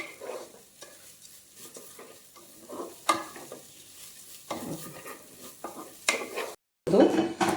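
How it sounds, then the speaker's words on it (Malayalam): Pepper, cumin and ginger roast in a pan for pongal, with soft sizzling and a spoon stirring and scraping against the pan, faint and close. "അത് നന്നായിട്ട് ഒന്നും കൂടി നന്നായി ഒന്ന് റോസ്റ്റ് ചെയ്ത് ചൂടാക്കി എടുക്കണം"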